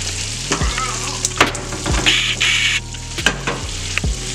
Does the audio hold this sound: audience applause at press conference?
no